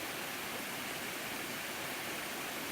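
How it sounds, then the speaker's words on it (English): A waterfall near Boone, North Carolina, roars as a steady, dense wash of rushing water that never breaks, heard close and fairly loud with no talking. "Gorgeous falls."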